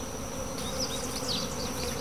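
Honey bees buzz steadily around an open hive during work on a colony with laying workers, a dense continuous hum with individual bees droning close by, no voices.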